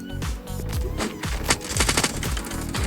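Loud, dense gunfire from the mobile shooter game Standoff 2 rattles in rapid automatic bursts with overlapping shots, plus a sharp metallic ring at the start, filling the whole stretch.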